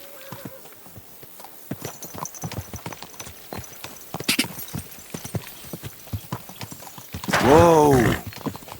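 Horse hooves clip-clop in a steady walking rhythm in the medieval game Kingdom Come Deliverance 2, ending with a loud horse whinny near the close.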